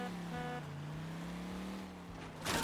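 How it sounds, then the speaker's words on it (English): A car engine runs at a steady idle with a low, even hum and a faint rising whine, then a sharp burst of noise near the end. "Listen to that engine go."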